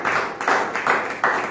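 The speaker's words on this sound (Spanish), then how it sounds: "denle fuertes palmas a Cristo" A church congregation claps in strong unison, with four loud, close, heavy beats in a slow steady rhythm and a brief hush between each clap.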